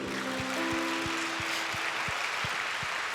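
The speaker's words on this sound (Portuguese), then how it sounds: "Vamos dar um lindo aplauso ao Senhor" A church congregation applauds during a worship service: a dense, steady wash of clapping runs throughout, with regular low thumps beating underneath and faint sustained tones.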